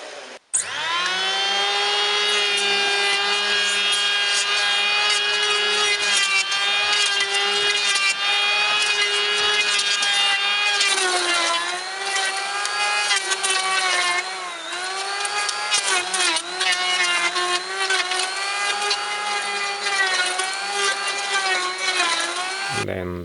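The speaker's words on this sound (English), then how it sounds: "And then some planing and sanding" A power tool whines loudly and continuously, its pitch dipping and rising as it planes and sands wood, running close by for over twenty seconds.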